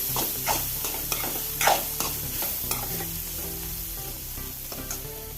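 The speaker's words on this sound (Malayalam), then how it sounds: "ഒന്നും കൂടി ഇളക്കി സെറ്റാക്കി ഒന്ന് അടപ്പ് പിന്നെയും വെച്ച് കൊടുത്ത്" A spoon scrapes and stirs bitter gourd stir-fry in a pan over a constant sizzle, with several short clattering strokes close by and no talk.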